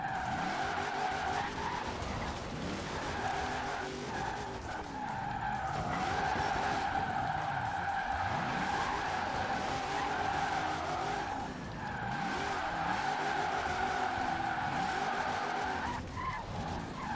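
Continuous tyre squeal from a car drifting around the Ambleside Village Circuit in Forza Horizon 4, steady and loud with a sustained engine drone underneath, brief dips between slides, no talking.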